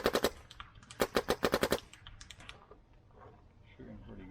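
A Dye Matrix DM9 paintball marker fires a rapid string of sharp, loud shots, about a dozen pops in quick bursts, then a quieter tail of mechanical noise.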